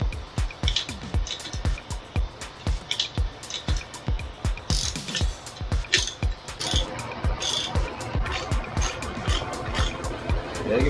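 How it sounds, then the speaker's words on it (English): Tools tightening bolts and nuts while mounting a Harbor Freight Badlands 2500 lb winch: a close, regular series of ratcheting clicks and metallic knocks repeating steadily throughout. "So we just need to tighten up these bolts and nuts."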